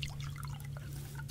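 Water trickling and dripping onto a tomato plot in the survival game Subsistence, a soft, steady liquid sound with light splashes over a constant low background hum.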